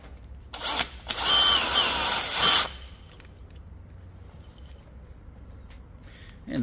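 Power drill driving a screw into a tunnelhouse purlin at a saddle: one loud, close whine of about two seconds with a brief start just before it, then quiet handling noise.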